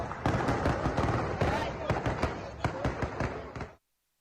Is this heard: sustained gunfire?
yes